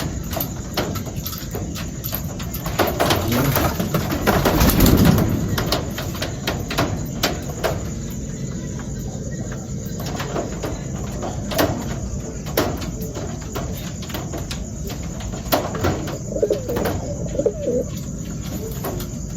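Racing pigeons in a loft during the hot season coo steadily and close up, their soft low calls overlapping throughout with occasional faint chirps and a few light knocks, with no talking.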